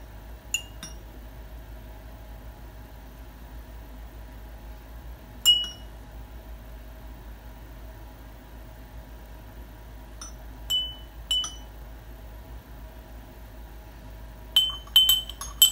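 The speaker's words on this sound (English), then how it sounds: "begin to test our hypothesis by tapping the jars lightly with a spoon" A spoon lightly taps glass jars filled with colored water for a water xylophone, giving scattered bright clinks, single taps and quick pairs, spread across a quiet background.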